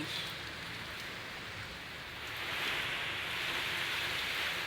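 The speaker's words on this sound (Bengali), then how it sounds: "এই যে আমাদের ছাদ, বৃষ্টি ঝড়োয়া প্রকৃতি।" Rain falls on a rooftop in a continuous, faint, even hiss with a slight swell partway through and no voices.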